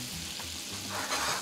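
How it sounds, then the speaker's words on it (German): Fresh butter sizzling and frying in a hot pan, cooled slightly after searing steak, a steady close crackle that swells louder toward the end. "die Hitze zurückdrehen und dann eine frische Butter dazugeben"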